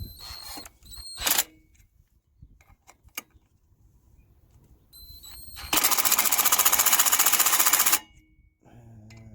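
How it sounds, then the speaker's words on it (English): Electric impact wrench tightening studs during a 3 inch lift install on a Subaru Outback, a loud rapid hammering burst of about two seconds after quieter handling noises and a short earlier buzz. "I'm going to use my electric impact until it stops"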